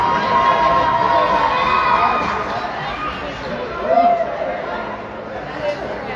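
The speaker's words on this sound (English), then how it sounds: "fans cheering the puck going into the Highland bench" Bethalto fans at a JV high school hockey game cheer and shout in a busy rink crowd, with chatter and a brief swell of yelling partway through.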